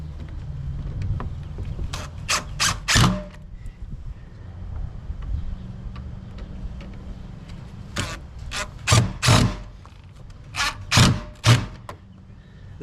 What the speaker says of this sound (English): That sound is the sound of my drill bit stripping inside these cheap screws